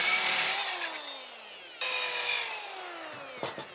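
Power saw cutting wood for the fascia of a 10x12 shed; two fairly quiet spinning whines that taper down as the blade slows, the second starting abruptly midway, with brief knocks near the end.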